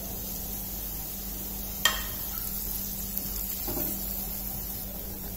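Turmeric, coriander, red chili and salt being stirred into a frying pan for veg vermicelli pulao, giving a low steady sizzle with a couple of brief utensil scrapes and clinks.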